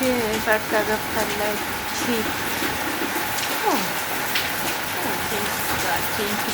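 Steady rain falling on a veranda, a dense continuous hiss with voices talking over it throughout.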